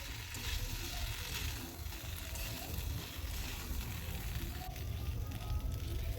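Pre-fried vegetables added to a hot pan of spiced oil for shukto, a steady close sizzle and crackle with a low rumbling hiss throughout and faint stirring.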